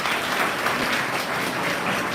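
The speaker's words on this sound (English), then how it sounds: "a thanks must go once again at last, but not the least, to Dr. Sunil Patnaik by giving a big clap." An audience gives a steady round of applause for Dr. Sunil Patnaik at an archaeology webinar, even dense clapping throughout with no talk.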